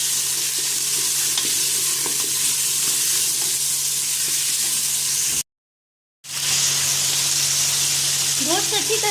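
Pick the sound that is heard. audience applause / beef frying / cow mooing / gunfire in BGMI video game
beef frying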